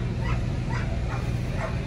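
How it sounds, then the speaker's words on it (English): A dog gives a short series of yips and whimpering barks outdoors near a drag racing trailer, a few evenly spaced cries over a steady low rumble, moderately loud with no talk. "I think he's tormenting this dog"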